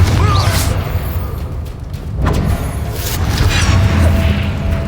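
A Confringo blasting spell explodes in a Harry Potter video game, a loud booming burst with crashing debris and a sharp whoosh over dense low rumbling game noise.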